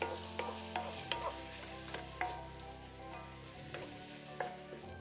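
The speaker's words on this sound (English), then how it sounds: "just stir them around so that you get oil coated over all parts of the onions and the peppers" Onions and peppers sizzle quietly in oil while a utensil stirs them, giving a soft steady frying hiss with light intermittent scraping clicks, close but faint.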